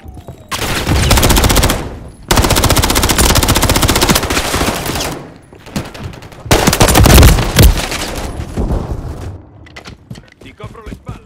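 Loud, sustained bursts of rapid machine-gun fire in Call of Duty: Modern Warfare III, broken by short pauses, ending in scattered single shots, with faint voices underneath.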